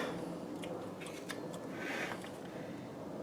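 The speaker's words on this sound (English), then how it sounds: "Now, we cut the hole." A hole is cut in a car dashboard panel between a side knob and the cigarette lighter to fit an air-fuel ratio gauge, giving quiet, close, irregular snipping clicks and scratchy cuts with no talk.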